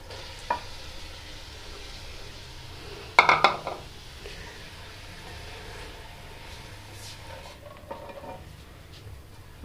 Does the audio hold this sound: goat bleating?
no